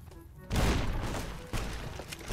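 Grenade explosions in Fallout New Vegas: two heavy, close booming blasts about a second apart, the first larger, each with a rumbling tail.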